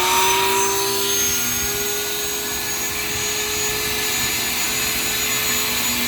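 A homemade CNC router hums with a loud, steady motor whine and broadband roar as it cuts a sign, continuous and close for the whole stretch.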